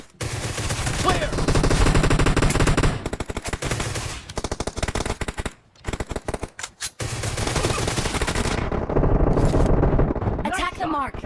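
Groza assault rifle from PUBG Mobile firing unsuppressed in long, loud automatic bursts with brief gaps between strings of shots, game effects and in-game voice callouts mixed underneath.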